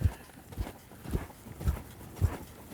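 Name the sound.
horse hooves clip-clopping while being ridden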